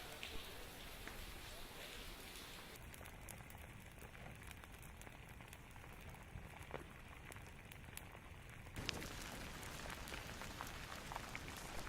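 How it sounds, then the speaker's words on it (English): Steady rain falling near an active lava flow in Pahoa, where a metal fence burns, a continuous broadband hiss throughout with a slight change in texture partway through. "Even the rain can't put it out."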